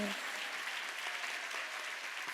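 Dense, sustained clapping from a large congregation at a Korean church Sunday worship service, loud and even throughout with no pauses.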